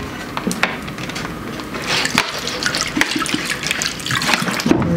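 Water poured into homemade almond milk, a steady close splashing and trickling pour lasting several seconds, fairly loud and continuous with no voices.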